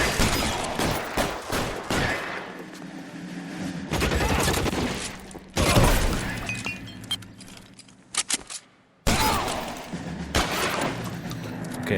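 Shotgun gunfire erupts during a bank shootout in L.A. Noire, several loud, close blasts spaced a few seconds apart, each with a booming crack and a ringing decay, mixed with scattered clatter between shots.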